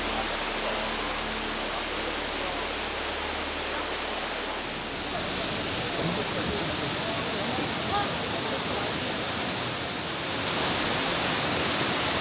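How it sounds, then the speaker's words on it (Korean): Loud, steady roar of heavily falling water from a waterfall with a cave in the Hantan River canyon, swollen by heavy rain, echoing off rock and filling the whole scene without pause. "어제까지 많은 비로 늘어난 물에 동굴까지 있으니 물소리도 엄청나다."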